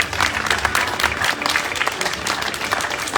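Audience applause greeting Miss Lorraine 2020 at a French regional pageant event, a steady dense wash of many hands clapping close by for about three seconds with no pause.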